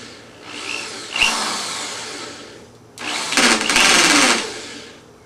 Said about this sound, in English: Now we need to drill holes so that we have somewhere to put the jigsaw